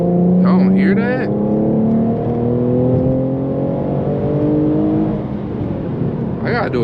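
A tuned Infiniti Q50S running E85 revs hard during a pull, its exhaust producing a loud, steady rising drone with shifting harmonics for several seconds, close up, with brief bursts of other noise over it.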